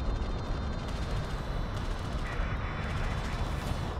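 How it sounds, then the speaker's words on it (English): Missiles from missile ships repeatedly striking the same units during an air attack in an Artifact Cup strategy game match. A dense, unbroken barrage of rapid crackling impacts and gunfire-like bursts stays loud and steady throughout, with no voices. "the missiles are hitting multiple times on the same unit"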